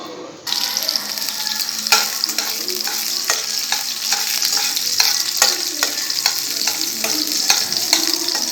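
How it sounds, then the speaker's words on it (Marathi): Chopped green chilies sizzle and crackle in hot oil in a pan, a loud, close, steady frying hiss with repeated stirring scrapes throughout, no voices. "तेल तापलं की त्यामध्ये आपण चिरलेली मिरची टाकूया।"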